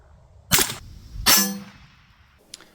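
A 40-grain 5.7x28 round fired from an AR57 strikes an AR400 steel plate: two loud, sharp cracks about three-quarters of a second apart, the second followed by a ringing metallic clang, then a faint tick, with no talk.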